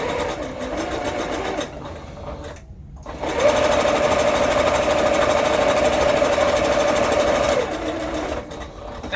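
A serger stitches fabric in two runs: a short burst of rapid mechanical whirring, a brief pause, then a longer steady stretch of fast, even stitching before it stops.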